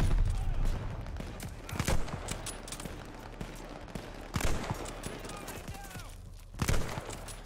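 Machine gun fire in the Call of Duty Vanguard campaign, with repeated bursts of rapid shots and heavier booming impacts scattered through a busy wartime battle, loud and close, with shouting voices mixed in.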